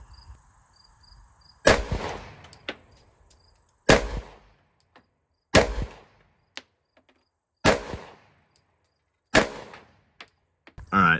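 Five pistol shots from a handgun fitted with an Osight K open-emitter red dot ring out loud and sharp at a target, spaced roughly two seconds apart, each with a brief echoing tail, then one more shot begins at the very end.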